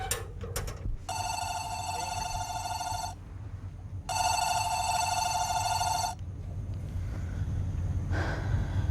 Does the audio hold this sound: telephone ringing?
yes